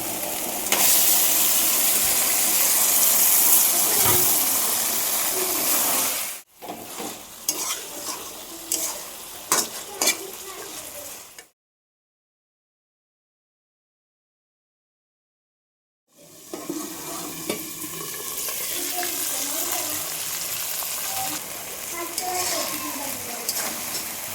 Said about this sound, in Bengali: মশলাটা একদম সুন্দরভাবে হয়ে গেল এবারে মাংসটা দিয়ে দেবো